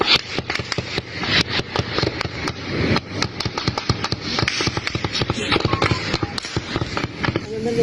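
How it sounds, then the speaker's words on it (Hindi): Sharp, rapid cracks of gunfire from a military operation against a hiding militant in a forest ring out in bursts, some close and loud, others more distant, under a constant background rumble. "ऑपरेशन चल रहा है उसमें गोलियों की आवाज आपको सुनाई दे रही है"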